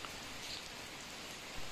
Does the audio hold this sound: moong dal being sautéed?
no